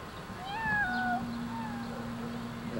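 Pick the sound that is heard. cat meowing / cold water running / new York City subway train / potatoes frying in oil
cat meowing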